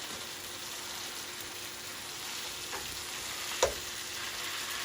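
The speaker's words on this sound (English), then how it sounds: "you want to go in with the corned beef, aka the bully beef" Corned beef (bully beef) frying in a pan over medium heat while being broken up, a steady low sizzle with a faint scrape or two, no talking.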